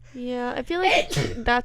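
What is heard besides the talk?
sneeze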